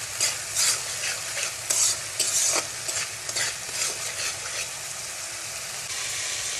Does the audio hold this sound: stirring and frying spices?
yes